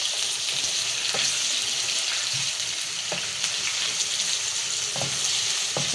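Chicken sizzles and browns on a hot tawa, a close, continuous frying hiss broken by scattered crackles and light stirring knocks, with no talking.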